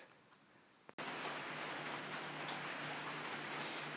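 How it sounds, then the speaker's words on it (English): Steady rain hissing outside, a constant dense wash of noise that starts abruptly after a brief quiet moment and a click. "it's raining outside"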